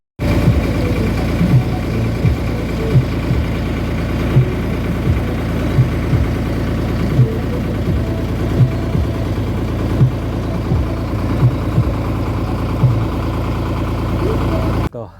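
A country boat's engine idles steadily on a village river crossing, giving a continuous close low hum with faint rhythmic knocking that holds through the whole stretch before cutting off at the end.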